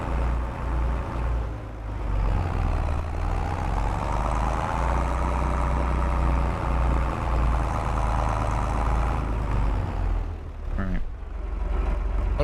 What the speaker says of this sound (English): This tractor does not have speed to get down here before something comes.